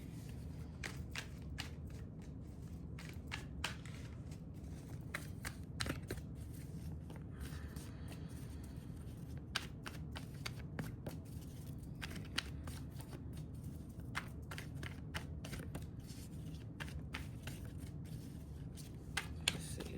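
Oracle cards being shuffled by hand, quiet repeated riffling and snapping ticks in irregular bursts over a low room hum, close and soft.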